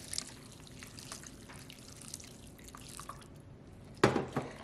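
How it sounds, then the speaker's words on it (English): Purified water is poured over sea moss to rinse it, giving soft trickling and dripping throughout, then a sharper splash near the end. "So pour your purified water over."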